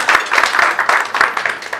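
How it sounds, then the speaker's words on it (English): A round of applause for Madam President at a press club luncheon, brisk, close crowd clapping with dense overlapping claps throughout. "Another round of applause for Madam."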